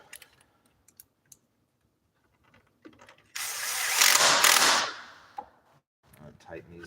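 A power tool or driver briefly whirs while tightening the main shoulder bolts on a bicycle. One loud burst of about a second and a half stands out amid scattered faint clicks and taps, with no talk.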